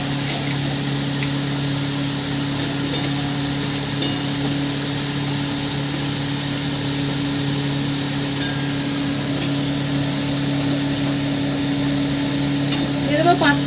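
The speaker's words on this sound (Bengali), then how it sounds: "দিয়ে আমি একটু ভালো করে নাড়িয়ে নেব।" Bay leaves and dried chillies fry in hot oil with a steady sizzle, and a few faint clicks of stirring break through near the end under a constant hum.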